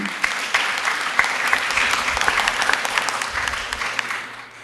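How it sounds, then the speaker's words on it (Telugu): A church congregation at a Catholic memorial mass applauds loudly, with dense, crackling clapping that holds strong for several seconds before tapering off at the end. "చప్పట్లతో వందనాలు అర్పించుకుందాం."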